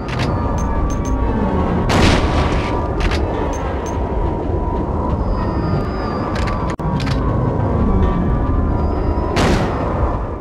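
Gunfire in the Silent Hill 2 video game: several sharp, booming shots land at irregular intervals over a dense, rumbling ambient background, with no voices.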